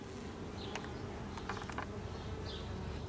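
Honey bee swarm flying around a hive, a faint, steady buzzing drone with a few brief clicks and taps near the box.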